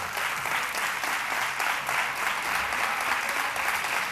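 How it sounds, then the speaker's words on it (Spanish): An audience at a mantilla exaltation ceremony in Chiclana applauds a guest, sustained even clapping from a full hall that carries on for seconds without voices. "Un aplauso para él."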